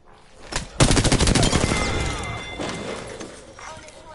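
Video game gunfire: a rapid burst of automatic shots rattling close and loud, then ringing and clattering debris fading out.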